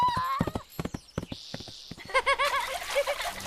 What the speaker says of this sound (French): Au cheval!